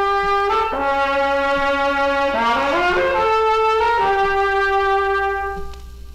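A trumpet plays a sustained melodic phrase stepping down to a full, resonant low C, close and loud with rich harmonics, the final note held before fading.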